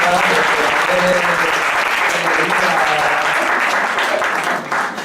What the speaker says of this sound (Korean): 우리 크게 한번 박수해 주시겠습니까?